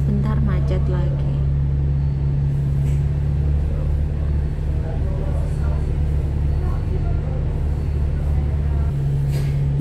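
Stop-and-go traffic jam in Hong Kong: steady engine idle and road rumble from cars and buses close by, with a faint hiss and occasional brake or traffic noises, under a continuous low drone.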